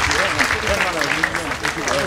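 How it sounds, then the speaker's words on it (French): Continuous applause from an audience, a dense crackle of many hands clapping steadily for the whole stretch, with murmured voices mixed in. "Sous vos applaudissements, Madame Aziza Foura."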